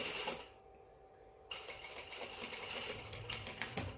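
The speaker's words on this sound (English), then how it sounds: "keeping in mind that you are sewing towards that 1 centimeter line that you made with the chalk." A sewing machine stitches the front panels of a pair of pants with a steady rapid whir and needle clatter, pausing briefly before resuming a continuous run at close range.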